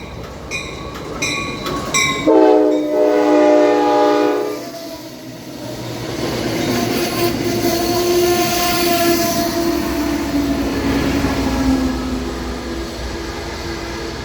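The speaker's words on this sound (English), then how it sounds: "it looks like Amtrak Cascades is coming into the station" An Amtrak Cascades passenger train arrives at the Albany station bound for Eugene. A short horn pattern sounds first, then a loud rolling rumble and a long squeal from the wheels or brakes as the train pulls in.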